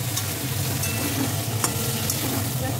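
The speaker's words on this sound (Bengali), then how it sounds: "পটলগুলো ভাজা ভাজা হয়ে গেছে," Pointed gourd frying in oil with turmeric and salt: a steady close sizzle with a few light clicks of a spatula, no voices.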